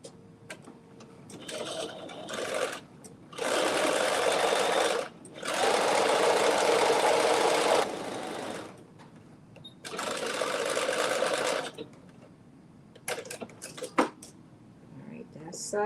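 Sewing machine stitching a facing on a garment, in several separate bursts of a few seconds each with quiet gaps, clicks and mechanical handling between runs.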